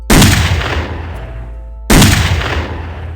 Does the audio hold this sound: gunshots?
yes